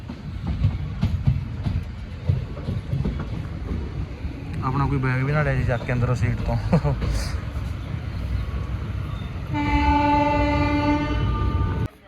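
A passenger train runs with a steady rumbling roar, someone speaking over it, before a long, loud horn blast sounds near the end.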